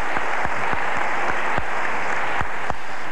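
Audience applause for Arnold Schwarzenegger at his honorary degree acceptance at UWS, a loud sustained wash of clapping punctuated by several sharp thumps.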